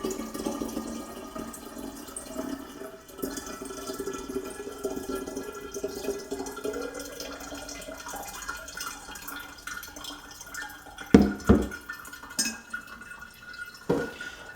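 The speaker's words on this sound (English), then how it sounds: "strain that through the small kitchen strainer" Water with blackworms drains through a small kitchen strainer, a soft trickle and drip that stays faint before louder splashes and clinks near the end.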